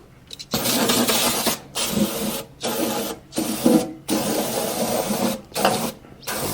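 Brake cleaner is sprayed onto the transmission gears of a Caterpillar D4 bulldozer in a series of about six loud, close aerosol hisses, each lasting around a second, separated by brief pauses.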